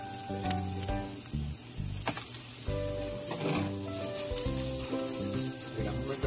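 Ground meat added to onions frying in a pan sizzles steadily, with stirring scrapes and a few utensil taps heard close, while a tonal hum or music runs in the background.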